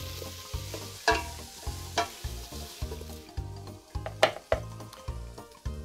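Onion and tomato sauté in a pan for Castilian garlic soup: steady close sizzling under regular rhythmic stirring strokes, with a few sharper utensil scrapes against the pan and no talking.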